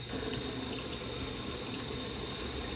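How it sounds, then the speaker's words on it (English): A kitchen tap runs a steady stream of water over salmon being scaled, a continuous hissing splash at moderate volume with no talk. "So I'm just going to run my water."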